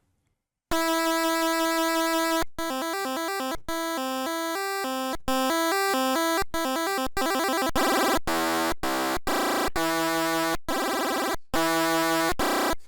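Magical 8bit free synth plugin playing rapid chiptune arpeggios, bright square-wave tones stepping through patterns in a continuous run of phrases with short gaps, loud and up front with no voices.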